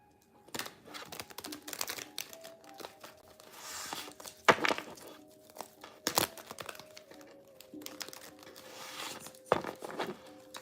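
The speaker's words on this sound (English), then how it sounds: "Let's get another good shuffle here." Tarot cards being shuffled, with crisp riffling, crinkly bursts and sharp slaps in an irregular rhythm, close and clear in a quiet room.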